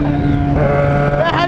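A Yamaha XJ6 White Edition motorcycle holds a steady humming engine note on the street, then briefly revs higher with the clutch pulled. Wind noise and a voice sound nearby.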